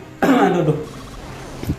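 A single harsh cough sounds close by, followed by a faint throat noise.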